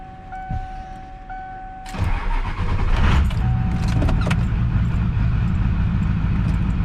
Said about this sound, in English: getting in the truck, starting it, putting it in drive, and then putting it into neutral